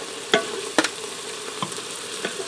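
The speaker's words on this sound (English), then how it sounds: "Give that a stir" Browned ground beef with Italian seasoning being stirred in a pressure cooker, a steady low sizzle with a few distinct scraping strokes of the spoon against the pot.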